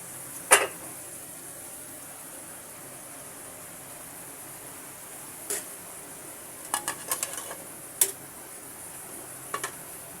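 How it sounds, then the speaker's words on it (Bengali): A metal lid clanks sharply onto a cooking pot of country chicken curry, one loud clink, then a few lighter, scattered taps and clatters against a quiet background hiss. "এবার আমি কিছুক্ষণের জন্য আবার ঢাকনা দিয়ে রাখবো"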